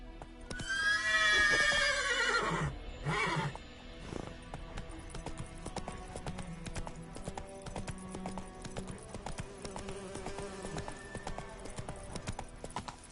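Roach the horse from The Witcher video game whinnies loudly, then gallops with steady rapid hoof clip-clops that continue evenly and close.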